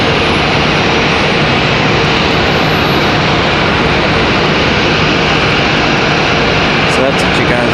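Frontier Airlines jet engines roaring at Raleigh Durham International Airport, a loud, steady, broadband rumble that fills the whole clip with no breaks.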